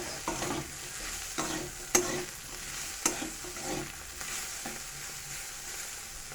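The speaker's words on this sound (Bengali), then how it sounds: "এটা আলু আর বিনসটা ভালো করে ভেজে নেব।" Potatoes and beans fry in oil in a pan for chow mein, giving a steady sizzle broken by several sharp scrapes and clanks of a spatula stirring them, with no voices.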